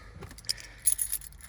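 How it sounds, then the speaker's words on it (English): Car keys with an electronic fob jangle inside a Land Rover Discovery on a rainy day, a few short metallic clinks and rattles close by, alone with no talk. "keys now in here, the electronic fob is here in the car"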